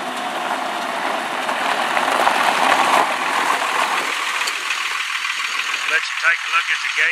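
A 1999 Dodge 3500 truck engine idles with a steady mid-pitched drone, heard close under someone talking throughout.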